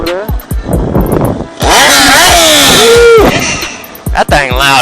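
A BMW S1000 motorcycle engine roars nearby, revving up and down in rising and falling sweeps, with loud bursts broken by short pauses and people talking in between.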